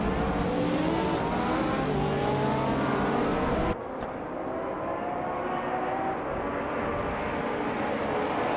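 Peugeot 205 T16 Evo 2 race car in a racing video game, its engine a loud continuous drone with shifting pitch that drops abruptly to a quieter, thinner tone partway through.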